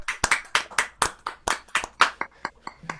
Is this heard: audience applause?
yes